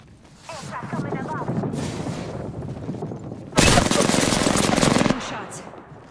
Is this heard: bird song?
no